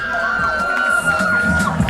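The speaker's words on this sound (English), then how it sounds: "How about a big round of applause for Access, ladies and gentlemen?" Crowd at a Next Generation Wrestling show cheering and applauding, a loud continuous roar with whistles, whoops and shouted voices blended over scattered clapping.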